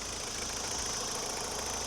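A 1994 Tata Sierra's 2-litre non-turbo engine idles in a steady, even rumble with a faint knocking texture, close and constant throughout.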